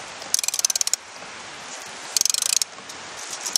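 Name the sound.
tightening a nut onto the axle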